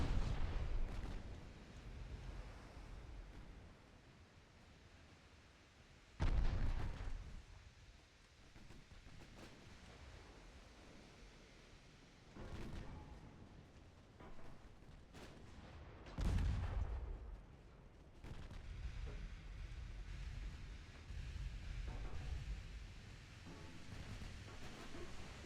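A battleship's 10.4-inch guns fire in Ultimate Admiral Dreadnoughts, with several heavy booms spread across a long stretch of low, rumbling sea-battle noise, some sharp and close, others softer and farther off.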